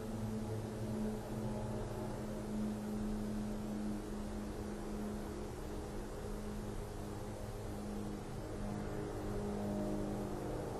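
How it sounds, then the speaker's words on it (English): Steady, distant freeway traffic roars without a break beside an old prison less than 100 yards away, a continuous low rumble and hiss with a faint engine hum and no voices. "we're going to get sounds of a lot of traffic"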